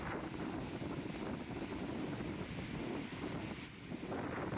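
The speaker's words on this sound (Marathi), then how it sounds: "30 सेंटीमीटरनं हे धरणाचे दरवाजे उघडलेत आणि पाण्याचा विसर्ग सुरू करण्यात आलेला आहे" Water pours through the opened gates of Lower Wardha Dam in a continuous, loud, rushing roar, buffeted by heavy wind noise on the microphone.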